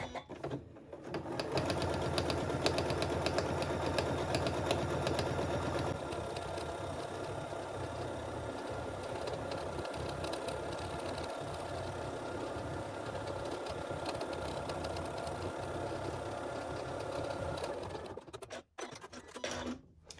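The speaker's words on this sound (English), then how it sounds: "now I'm going to stitch another row of stitching just along the inside of the first row" A sewing machine runs steadily, stitching a second row along the inside of the first on fabric for a chef's hat. The motor hum is close and continuous for most of the clip and stops near the end.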